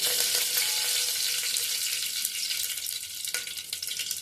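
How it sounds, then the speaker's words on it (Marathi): Steady, loud sizzling of curry leaves dropped into hot oil with crackled mustard seeds, a dense crackling hiss with a few sharper pops, no voices. "मोहरी तडतडली की त्यामध्ये घालायचा आहे कडीलिंब"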